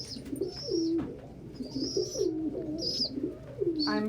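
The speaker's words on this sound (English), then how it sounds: "I'm surrounded by and covered in birds" Pet birds cooing all around, with repeated soft dove-like coos mixed with short high chirps, close and continuous, without talking.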